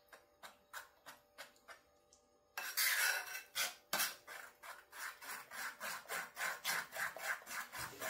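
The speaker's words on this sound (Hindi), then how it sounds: "विस्कांनी तुमी मिक्स करूंक जाता बॅटर" Shrimp tempura batter whisked in a bowl, a rapid series of rhythmic scraping, rubbing strokes close up, steady and fairly loud, with no talk.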